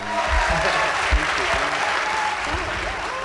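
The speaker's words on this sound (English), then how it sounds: "So big applause for both Elegance and Chester" A crowd applauding steadily at an award ceremony, dense clapping filling the room for a few seconds.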